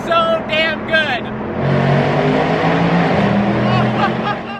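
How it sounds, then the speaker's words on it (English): A straight-piped Mercedes C63 AMG Black Series engine rumbles loudly and steadily at close range after a brief voice. "This car sounds so damn good."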